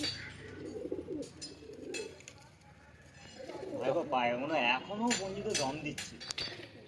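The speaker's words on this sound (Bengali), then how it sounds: "এই হচ্ছে পায়রা জোড়া।" Pigeons coo in a pigeon loft in Sankrail, Howrah, with soft murmuring calls and faint clinks throughout and voices talking nearby.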